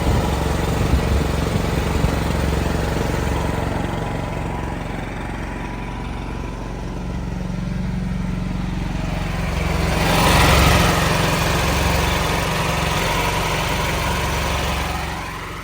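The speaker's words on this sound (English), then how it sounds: "Instead of just standing here watching a generator run" A backup generator engine runs steadily during emergency power testing, a continuous loud low drone with a slight swell near the end and no talk.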